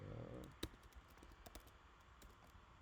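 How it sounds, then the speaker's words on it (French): Someone types a command into a terminal on a computer keyboard, making a few faint, scattered key clicks in a quiet room, with one sharper tap early on. "vous allez taper la commande node-version"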